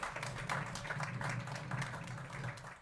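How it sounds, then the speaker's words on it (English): An audience at a real estate event applauds the women who served food, a continuous wash of clapping from a room full of people, steady and moderately loud, with a low hum of the hall underneath. "Let me hear a big round of applause, mostly for the ladies in the back doing the food that you ate."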